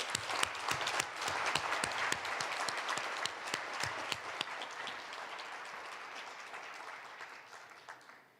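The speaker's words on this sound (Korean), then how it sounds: "박수로 환영하겠습니다." An audience at a national prayer breakfast gives President Moon Jae-in a warm welcome with sustained applause, many distinct claps in a dense wash that gradually thins and fades out.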